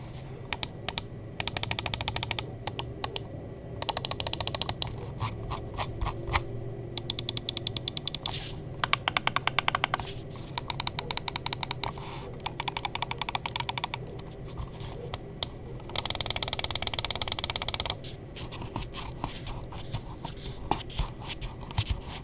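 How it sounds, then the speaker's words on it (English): An Ajazz AJ139 Pro 4K mouse is clicked up close in bursts, with rapid clusters of sharp clicks and scroll-wheel ratcheting separated by short quiet gaps, and no voices over it. "So let's go ahead and drop the click and quality sound test."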